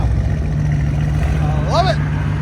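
A Mercedes C63s AMG with a 4.0L twin-turbo engine and a catless straight-pipe exhaust gives a loud, steady, deep rumble, with a voice briefly heard over it.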